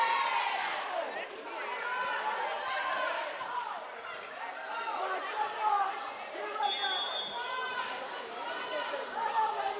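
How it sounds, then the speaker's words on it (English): A crowd at a Paine College vs Benedict College volleyball game fills the hall with a steady roar of chatter and shouts, plus occasional squeaks and thuds from the court, with no announcer heard. "We hear the crowd now."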